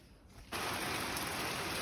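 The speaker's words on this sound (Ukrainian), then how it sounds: "у нас дощ іде." Steady rain hisses close by, a broad wash of patter that starts abruptly and then holds constant to the end.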